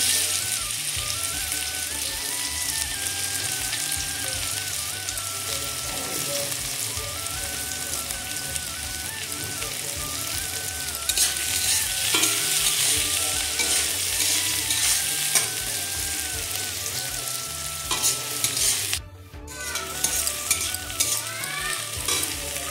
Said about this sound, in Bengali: তেল গরম হয়ে গেছে, এবারে আমি এর মধ্যে একে একে পেঁয়াজ কুচি